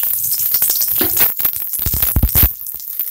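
Shallots, garlic and a whole tomato sauté in hot oil in a pan for tomato sambar, a close crackling sizzle broken by scraping and stirring clatter, with no talking.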